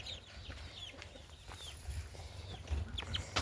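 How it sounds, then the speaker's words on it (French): Chickens on a farm: a rooster among hens, with scattered short clucks and chirpy calls over low steady background rumble, moderately close and a bit louder toward the end. "Mon petit coq Milouche qui arrête pas de choper les poules."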